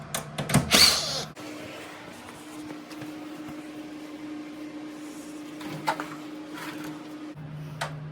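A power driver backing out 5/16 screws from the underside of a Viking VUAR151FS beverage center: a short, loud whirring burst at the start, a steady humming drone, then another brief whir near the end.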